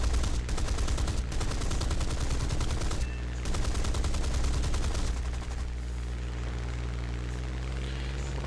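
Aircraft guns fire rapid machine-gun bursts in a War Thunder air battle, loud and dense over a steady engine drone, then break off about halfway as the engine hum carries on alone.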